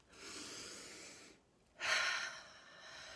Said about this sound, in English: Okay, deep breath.